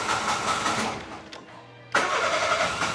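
A car engine with freshly replaced spark plugs cranks and catches, its running noise cutting out briefly before starting up again loudly and running on, close by with no talk.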